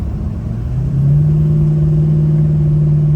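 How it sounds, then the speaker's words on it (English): A Ford 6.0 Powerstroke diesel truck engine rising from idle as the throttle is pressed, its low, loud rumble climbing in pitch and then holding a steady raised drone, with no speech. "If I hit the gas here,"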